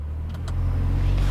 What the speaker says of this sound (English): right now in auto mode, I'll rev the engine a little bit.